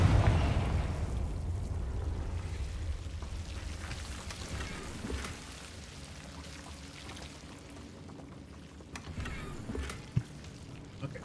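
A Confringo blasting spell explodes in Hogwarts Legacy, opening with a loud, deep rumbling burst that slowly fades into a long crackling tail, followed by a sharp pop near the end.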